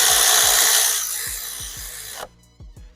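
Ratcheting and rasping tool sounds while tightening a bolt on the valve cover of a 2008 Honda Civic Si, with a broad hiss at first, then a few close, repeated metallic clicks alone.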